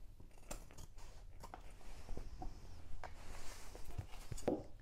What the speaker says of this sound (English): So I'm just going to trim that off so that it matches the lining.